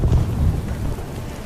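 Heavy monsoon rain pours over jungle-covered hills in the A Shau Valley, a dense, steady roar with deep low rumbling throughout and no voices.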